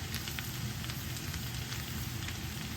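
Garlic simmering in butter in a pan, a faint steady sizzle and soft crackle without pause, no talking.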